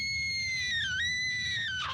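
An actor on a horror film shoot lets out one long, sustained high-pitched scream that wavers and dips midway, loud and close, then breaks off sharply at the end.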